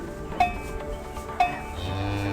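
A cartoonish video game cow moos with a low, drawn-out tone toward the end, preceded by two bright chime-like clicks over a soft musical background.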